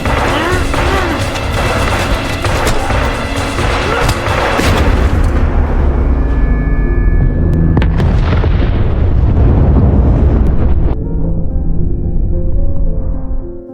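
A loud bomb explosion in a film with heavy crashing and rumbling debris, a dense sustained roar that slowly thins out and ends abruptly.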